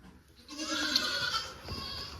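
A goat gives one long, nasal, wavering bleat at close range, holding for over a second before trailing off, with faint farmyard background.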